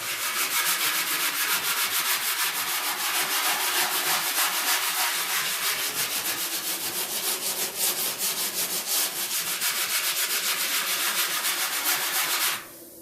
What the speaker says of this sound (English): we'll try with the stainless steel pad